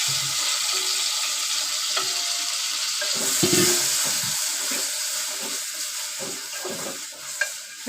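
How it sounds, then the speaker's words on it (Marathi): Mushrooms sautéed in hot oil in a pan, a steady close sizzle and hiss with occasional stirring scrapes and a small clink near the end. "पहिले तेल टाकलंय आहे बऱ्यापैकी हे तेलामध्ये परतून घेणार आहे"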